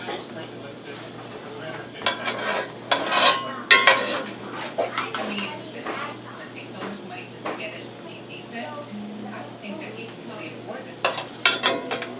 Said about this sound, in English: There's a lot of liquid in the pan, so you're going to want to grab it, kind of strain as much as you can out.